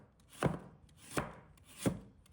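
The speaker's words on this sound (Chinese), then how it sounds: "接下来我们准备适量的胡萝卜，把它切成片。" A knife slices carrots into rounds on a cutting board, making three crisp, evenly spaced chops that sound close and clear in a quiet room.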